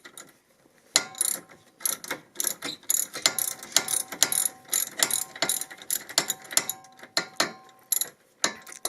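A hand ratchet wrench clicks rapidly as it loosens the front sway bar end link nut on a Miata MX-5, a close, crisp run of ratcheting ticks in quick repeated strokes.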